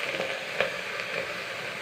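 Beans added to a hot pan on the stove give off a steady, soft sizzle that stays even throughout, with a faint crackle near the start.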